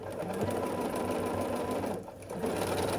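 A sewing machine stitches a seam on a scrappy sampler quilt block, running in a continuous close, steady mechanical whir with rapid needle chatter for the full three seconds.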